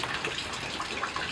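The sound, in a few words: rain falling and water running into a rain barrel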